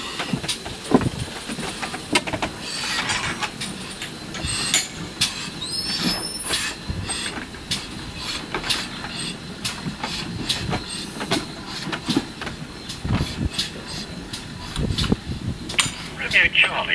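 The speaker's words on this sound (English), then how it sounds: "The train has just departed Chinnor Station." A heritage railway train pulls out of Chinnor Station on the Chinnor & Princes Risborough line, with rhythmic wheel clatter, brief high squeals and repeated knocks near the listener, and voices talking at times.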